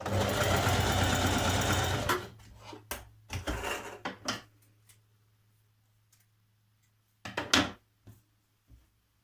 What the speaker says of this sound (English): Stitch your front bodice to your back bodice at the shoulder seams.